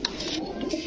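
Red Gorra pigeons at a pigeon market, cooing in soft, continuous, nearby throaty calls with a faint bit of background chatter.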